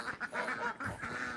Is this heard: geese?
yes